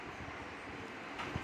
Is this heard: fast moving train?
yes